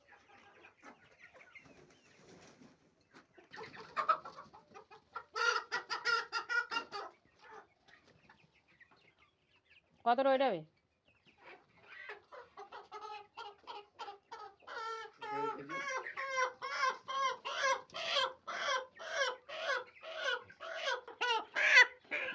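Small chickens cluck repeatedly inside a household chicken coop, a busy run of close, rhythmic clucks building toward the end, with a brief human voice speaking partway through.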